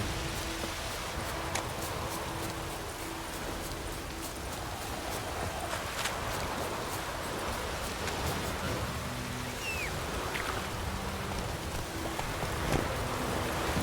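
Rain falling in the video game The Witcher 3, a steady dense hiss of drops on surfaces with faint scattered ticks and a light clip-clop of hooves underneath; no voices.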